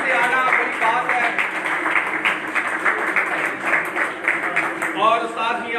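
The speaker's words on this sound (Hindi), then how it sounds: "शहबाज भाई के लिए बहुत बड़ी तालियां, क्योंकि लाहौर से आना बड़ी बात है।" An audience applauds to welcome a guest from Lahore at a gathering, a steady patter of clapping that runs the whole time beneath overlapping voices.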